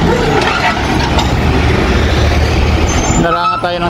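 A truck rumbles loudly past close by, its engine and road noise filling the scene before a brief hiss near the end, with someone speaking over it outdoors.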